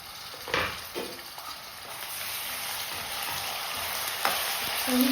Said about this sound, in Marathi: इथे कांदा छान शेकला गेला का त्याच्यामध्ये टॅमॅटो ॲड करूया